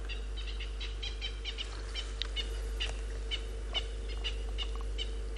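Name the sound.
Natal francolins calling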